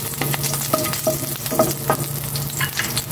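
Bitter gourd is added to garlic and onion frying in a pan, with a steady close sizzle broken by repeated stirring clicks and scrapes of a utensil.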